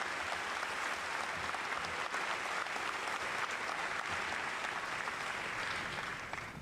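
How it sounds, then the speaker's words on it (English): Sustained applause from a large audience at an infantry graduation ceremony at Fort Benning, honoring drill sergeants and their families; dense, steady clapping fills the whole stretch without voices, easing slightly at the end. "give another round of applause to the drill sergeants and their families who expertly fulfill their duty to produce the world's greatest infantrymen"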